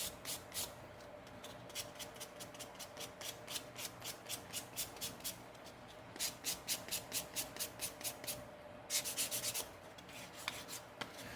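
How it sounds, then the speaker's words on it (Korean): Steady back-and-forth rasping of 400-grit sandpaper rubbed over leather scraps, a long run of quick even strokes, close and moderately quiet, with no talking. "200방 사포로 다듬어 줬으면 그 다음에는 400방 정도 되는 사포로 한 번 더"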